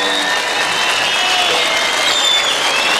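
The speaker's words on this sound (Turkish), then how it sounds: "kocaman bir alkış yapar mıyız lütfen" Concert audience giving steady, loud applause, a dense continuous wash of claps with faint tones running through it, lasting the whole three seconds.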